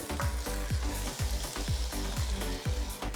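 Mutton pieces frying in an onion-tomato masala for a one-pot pressure cooker curry, with brisk rhythmic scraping strokes of stirring over a close, steady sizzle.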